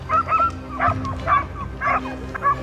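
Hunting dogs at a wild boar hunt bark and yip repeatedly in close, loud bursts roughly every half second, with rough excited tones.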